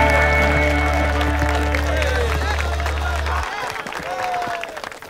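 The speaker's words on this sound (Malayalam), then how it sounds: "കൈയടിക്ക്, കൈയടിക്ക്." An audience claps at a tournament trophy presentation, a dense patter of applause and crowd noise mixed with sustained musical tones that cut off partway, leaving the clapping and murmur alone.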